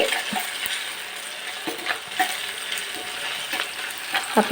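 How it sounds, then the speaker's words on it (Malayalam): Garlic, ginger and green chillies frying in a pan, a bright crackling sizzle broken by repeated stirring scrapes and small clacks. "വെളുത്തുള്ളി, ഇഞ്ചി, പച്ചമുളക് നന്നായിട്ടൊന്ന് വഴന്ന് വരട്ടെ"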